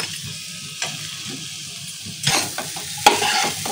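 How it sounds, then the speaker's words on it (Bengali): Taro stolons and ground turmeric, cumin, coriander and dried chilli being stirred and sautéed in a pan, with a soft background sizzle, scraping spoon strokes and a few louder clanks against the pan. "এবার এটাকে একটু ভালো করে কষাতে হবে"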